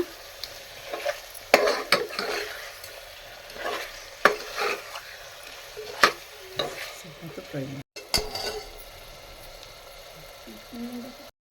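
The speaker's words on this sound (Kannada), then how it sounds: "ಇವಾಗ ಮೊಟ್ಟೆ ಆ್ಯಡ್ ಮಾಡ್ಕೋಬೇಕು ಈ ಥರ ನಿಧಾನಕ್ಕೆ ಮಿಕ್ಸ್ ಮಾಡ್ಕೋಬೇಕು" A spoon stirs eggs slowly into biryani masala in a hot pan, with scraping clinks against the metal over a soft sizzle of frying, close up, in repeated strokes with a brief break near the end.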